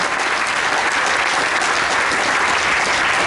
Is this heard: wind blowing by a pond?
no